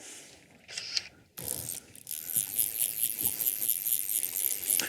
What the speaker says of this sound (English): make sure I distribute that line evenly on the reel